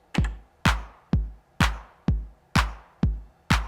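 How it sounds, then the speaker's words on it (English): A Roland TR-909 kick drum pounds four on the floor with hand claps on the backbeat, punchy close hits in a steady loop and nothing else. "Next, we're going to lay down our hand claps."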